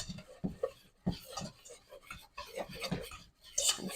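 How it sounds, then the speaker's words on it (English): A whisk stirring cornstarch into a roux in a pot for a seafood mac and cheese, with soft, irregular scraping and tapping against the pan, close and quiet, alongside bits of speech. "I'll take my 4 tablespoons of cornstarch, sprinkle that in, and use my whisk to get that all made into a roux"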